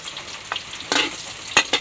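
Boiled chicken liver and gizzard for adobo are sautéed in a pan with a constant close sizzle and a few quick stirring scrapes, with no talking.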